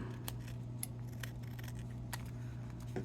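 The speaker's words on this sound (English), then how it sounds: "I can just go snip, snip." Scissors snip along the edge of a paper bag during a junk journal craft, giving a few short, crisp cuts over a steady low background hum.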